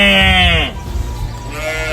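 A person imitates a sheep's bleat twice, a long wavering baa followed by a shorter one after a brief pause, loud and close.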